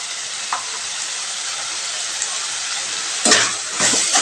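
Turmeric, cumin, coriander and chilli powders sizzle steadily in hot oil for a gravy, with a few sharper bursts of frying and stirring near the end.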